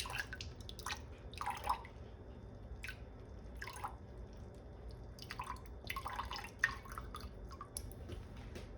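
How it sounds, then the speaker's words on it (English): Chicken broth splashes and drips in irregular bursts onto a kitchen counter, small spills and trickles spaced apart over a quiet background. "Except that I'm gonna pour it all over the counter"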